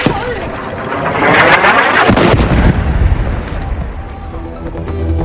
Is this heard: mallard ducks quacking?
no